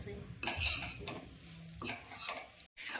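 Adadiya mix being stirred with ghee in a pan, scraping strokes of a spoon against metal in irregular bursts with a faint sizzle underneath, close and without talk.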